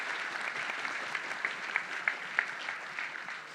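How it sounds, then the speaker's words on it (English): Soft, fairly distant audience applause for panelists at a naval history talk, an even patter of many hands with a few sharper claps standing out. "A round of applause for Sean, Trent, and Frank"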